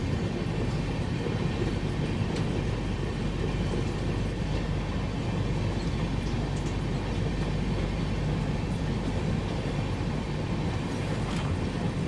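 A passenger train runs steadily on rails past tea gardens in North Bengal, a continuous loud rumble with rattling wheel noise heard from inside the carriage, with no talk.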